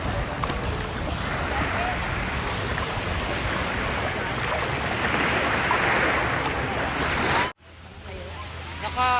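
Sea waves at Boracay beach, a loud, steady rush of surf and wind close by that cuts off abruptly near the end, giving way to quieter ambience with faint voices.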